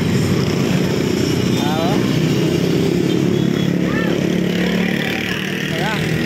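A Honda NS160 motorcycle engine, converted from fuel injection to a carburetor, runs steadily at close range with a constant loud drone; a few faint chirps rise above it.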